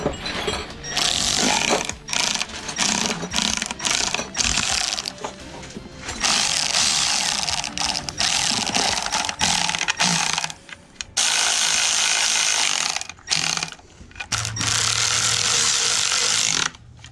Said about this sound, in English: You're just putting bolts in.